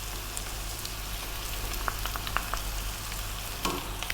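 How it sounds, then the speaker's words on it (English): Tomato paste sizzles and fries in a pot for beef stew with potatoes, a constant close crackle with occasional scrapes and clinks as it is stirred, no voices over it. "Now we're going to add the tomato paste."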